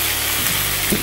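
Chopped lemon hitting hot oil for pickle, a brief loud burst of frying sizzle close up, with no voices.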